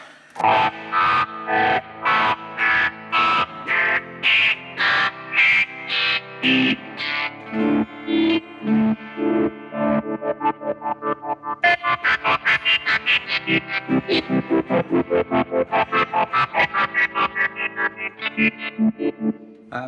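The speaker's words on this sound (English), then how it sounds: "The Murph, which is just like 8 filters that you can set the level of, and you can have patterns. It can get really kind of choppy." Electric guitar through a Murph multi-filter pedal running a pattern, chopping the tone into rapid rhythmic pulses, shifting to a faster stutter midway, loud and alone.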